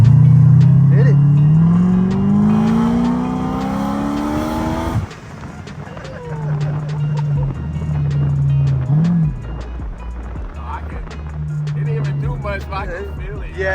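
A supercharged C6 Chevrolet Corvette with a street tune accelerates hard, its engine note climbing steeply through the revs before a gear change drops it into a lower, throbbing drone that builds again, loud and close from inside the car, with voices in the cabin.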